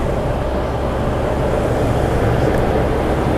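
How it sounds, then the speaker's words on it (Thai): A 1999 Toyota Land Cruiser VX100 Cygnus idling quietly, a steady low engine hum with a smooth, even drone and no revving, heard close and alone. "เครื่องยนต์เงียบมาก มาฟังเสียงเครื่องยนต์เร็ว"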